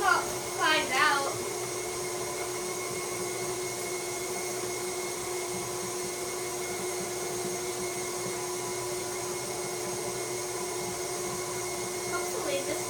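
Electric mixer creaming sugar with brown sugar for gingerbread, a steady whirring motor hum running throughout, with a few brief sharp sounds at the start and the end.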